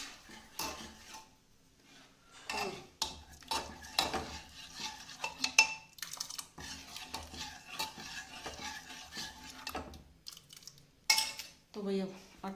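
Tempered dal cooks in a pot, stirred with repeated metal scrapes and clinks against the vessel over a faint simmer. The bursts are irregular and close, with a brief voice near the end.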